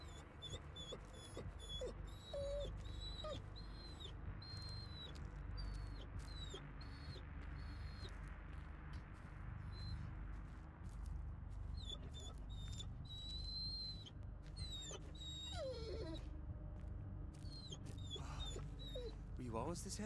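A dog whimpers in the Blair Witch video game, giving repeated high, thin whines over a low rumbling ambience, while someone talks at length over it.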